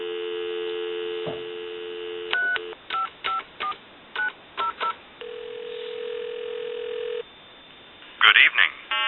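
Touch-tone dialing on a Western Electric 2500 telephone: a steady dial tone and low mains hum, then a quick series of about seven close, clear DTMF beeps, a held tone, and a final burst of tones.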